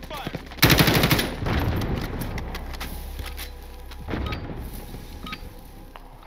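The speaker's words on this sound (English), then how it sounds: "We're taking fire." Automatic gunfire in the Call of Duty: Warzone game, set in the Operation Monarch mode. A loud burst of rapid shots starts early, then scattered shots and battle noise continue for several seconds.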